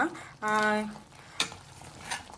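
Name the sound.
crab ghee roast masala frying and being stirred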